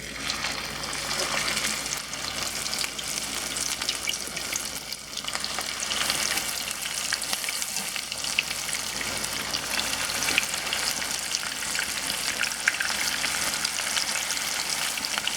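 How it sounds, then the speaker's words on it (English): Hash browns fry in hot oil with a steady, dense sizzle and crackle that holds close and loud throughout, with no talking over it. "And then we're gonna start frying"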